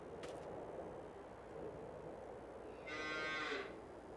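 Farming Simulator 22 cattle give one short, faint moo, distant and brief, near the end of a quiet stretch.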